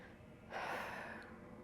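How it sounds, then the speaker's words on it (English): A single breath drawn in, a soft airy inhale or gasp close to the mic, rising partway through and fading out, with no talking. "one way you could do this is by breathing"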